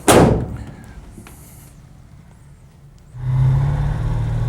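A 1969 Pontiac GTO Judge with a Ram Air V engine gives a loud thud at the start, a quiet stretch, then the engine starts up into a steady, deep, throaty idle close by.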